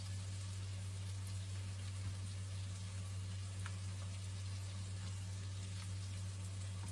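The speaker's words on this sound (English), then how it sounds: "let the bones simmer for a while" A pot of bones simmers on the stove with a steady, faint hiss and soft bubbling over a constant low hum, unbroken and even throughout.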